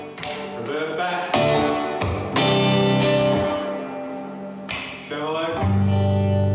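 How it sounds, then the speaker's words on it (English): Electric guitar played through an amplifier with reverb switched on, a series of picked notes and chords with lingering tails, fairly loud with no talk over it. "Reverb back."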